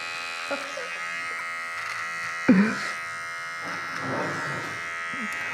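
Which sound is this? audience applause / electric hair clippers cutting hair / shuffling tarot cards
electric hair clippers cutting hair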